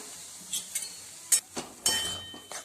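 Spoonfuls of semolina ladoo mixture stirred and roasted in hot ghee in a pan, with short scraping strokes, light sizzling and occasional metallic clinks of a spoon against the pan, heard close up.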